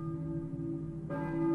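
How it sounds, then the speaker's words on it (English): A church bell tolls in the Silent Hill video game, a steady resonant ring with a fresh strike near the end that swells louder, heard alone over a droning background. "I hear a church bell, maybe."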